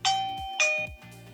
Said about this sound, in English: it sends a notification straight to my smart display